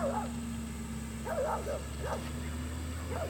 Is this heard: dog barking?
yes